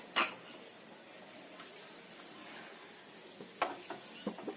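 Meat frying in a pan as its water cooks off for Kashmiri roganjosh: a soft, steady low sizzle with a few sharp clinks of a utensil near the start and end, no talk.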